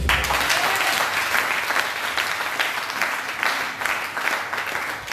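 A church congregation applauds together during a worship service, with dense, steady clapping filling the whole stretch at an even loudness and no voices rising above it.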